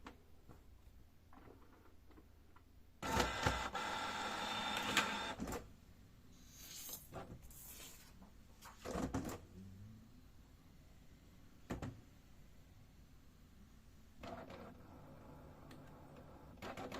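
A Canon PIXMA inkjet printer with a P07 error powers on: mechanical whirring bursts, clicks and a sliding carriage motor, with quiet pauses between the separate movements.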